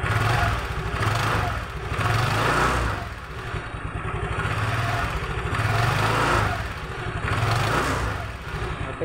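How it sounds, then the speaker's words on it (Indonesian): Automatic scooter engine revved gently after a rear CVT pulley repair, a steady close-up putter rising and falling in a few soft swells with faint mechanical clatter. "kita coba tarik gas awalnya pelan-pelan aja ya"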